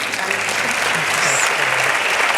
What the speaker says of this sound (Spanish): Un aplauso, por favor, y bienvenidos.